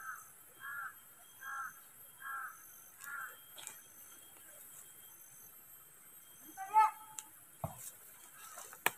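A crow caws five times in a steady rhythm, each call clear and moderately close over a quiet outdoor background, followed by a few scattered knocks and a sharper squawk.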